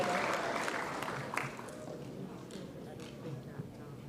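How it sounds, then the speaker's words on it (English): Audience applause at a primary school mental maths competition. The clapping is strongest at the start and fades steadily while voices speak over it. "So let's give them another round of applause."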